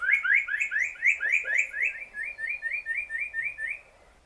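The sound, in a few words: spot-breasted parrotbill calling, Doi Lang, Thailand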